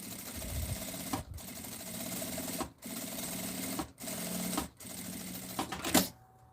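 A sewing machine stitches a small zippered bag, running in several steady whirring bursts broken by short pauses, close and with no voices.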